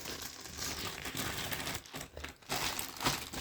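Plastic packaging of a Pilsan mechanical series toy car kit crinkling and crumpling as parts are unwrapped, close rustling that is nearly continuous with a few brief pauses.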